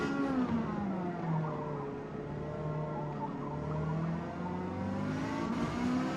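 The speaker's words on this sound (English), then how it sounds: "hesitation in the engine, that splutter. Have a listen. It's in lower RPMs." A car engine in the racing game GT7 hesitates at low RPM, its drone steady and fairly loud, rising and dipping slightly in pitch with an uneven, rough edge and no voices over it.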